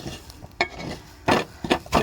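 Grated coconut dry-roasting in a pan for Kerala-style ulli theeyal paste, heard as soft scraping and stirring with a few louder spatula scrapes against the pan over a low, steady background.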